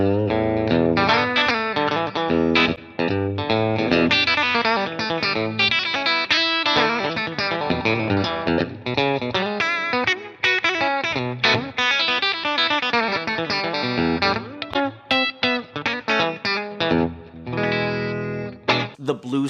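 A Telecaster electric guitar fitted with Tone Specific pickups plays a continuous run of chords and single notes, bright and clear with a touch of effect, loud and up close for the whole stretch.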